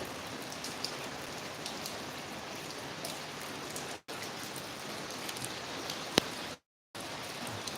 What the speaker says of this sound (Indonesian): Hari ini hujan ya guys